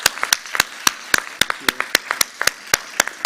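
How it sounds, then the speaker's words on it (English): Sparse, uneven clapping from a small workshop audience, a few pairs of hands striking in a loose rhythm for about three seconds, with no voices over it. "a round of applause for Amin."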